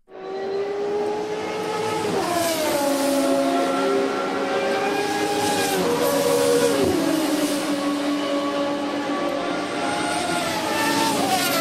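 Simulated car engine drone from a Pygame racing game, a steady continuous tone with rising and falling pitch sweeps as the car accelerates and shifts, loud and uninterrupted with no talking.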